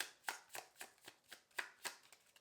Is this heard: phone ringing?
no